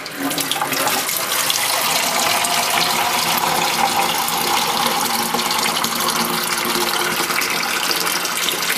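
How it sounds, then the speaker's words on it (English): Water gushes steadily from a tap into a can, a loud, continuous rushing splash with no pauses. "you'll fill up one of these cans with water."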